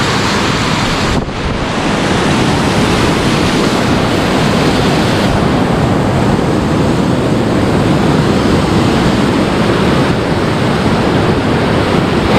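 The Ghaghi waterfall in Ambikapur, Chhattisgarh roars as a loud, constant rush of falling water, with some wind buffeting the microphone.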